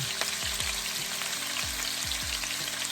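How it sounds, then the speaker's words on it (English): Cheap turkey necks searing in a pan, a dense steady sizzle with soft crackles and repeated low knocks of the pieces or utensil against the pan, close up with no talking. "Now I'm gonna let it sear on this side here"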